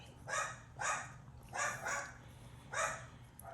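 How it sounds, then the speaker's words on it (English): Several dogs bark in four short bursts, spaced about a second apart, fairly close and moderately loud over a low steady background hum. "I'm so sorry about my dogs."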